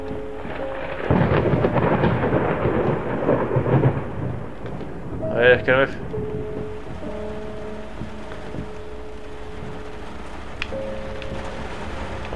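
Thunderstorm with rain in the game Layers of Fear: a long rolling rumble of thunder over steady rain noise, then a quieter rainy background, with someone speaking briefly.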